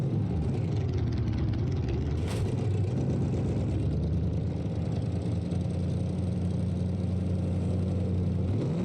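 A Corvette fitted with a 21-litre, roughly 3,000-horsepower engine races in the BeamNG driving game. Its loud, continuous engine drone holds a steady low pitch, then shifts near the end.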